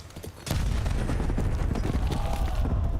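Grenade blasts and gunfire in a Call of Duty match at a professional league championship broadcast: a sharp boom opens into a dense, rumbling stretch of explosions and rapid shots, loud and sustained, with faint commentary underneath.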